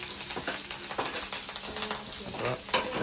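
Garlic frying in hot oil for a tempering, the pan giving a steady close crackling sizzle with scattered sharper pops and occasional stirring scrapes throughout.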